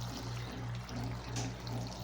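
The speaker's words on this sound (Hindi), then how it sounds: "अब इसमें डालेंगे पानी। पानी डालो।" Water poured into a cooking pot holding lentils, cauliflower and potatoes before pressure cooking, a steady close splashing pour running throughout alone with a low hum beneath.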